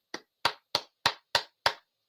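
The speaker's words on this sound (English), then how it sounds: "golf clap to you" Six slow, evenly spaced single claps ring out alone in a quiet room, a sparse, polite golf clap.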